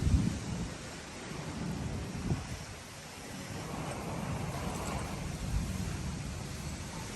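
Strong storm wind roars and gusts loudly outdoors before rain, a heavy rumbling rush that swells and eases over several seconds with no voices.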